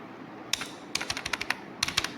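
Someone types the group name 'Unsecured Loan' on a computer keyboard: quick, crisp key clicks in three short bursts, close and clear over quiet room tone.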